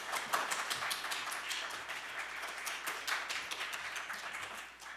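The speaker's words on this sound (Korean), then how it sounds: "큰 박수 부탁드립니다." Steady applause from an audience, many hands clapping in a dense, even patter that fades slightly at the end.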